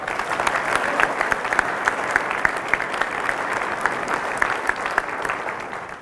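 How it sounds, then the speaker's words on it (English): A steady round of applause from an awards ceremony audience, dense, continuous clapping from many hands with some sharper individual claps standing out, holding at an even level throughout before easing slightly at the very end. "One final round of applause for all of you."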